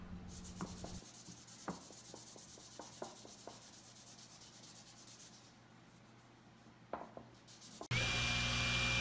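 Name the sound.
wiping sawdust off wood with a tack cloth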